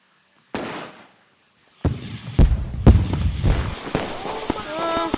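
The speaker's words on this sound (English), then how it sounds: "completely destroyed that one artillery firework" Artillery-style firework shells bursting with sharp booms, one loud bang followed by a cluster of heavy explosions and crackling, with a faint whistle trailing off; close and loud, alone without talk.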